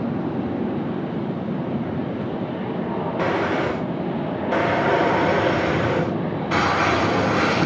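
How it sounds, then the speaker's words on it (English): A Capital A330 on its takeoff roll at Sydney Airport gives a loud, continuous jet engine roar that swells in steps as thrust builds, heard from a distance outdoors. "Lovely takeoff roll there as well from the Capital A330."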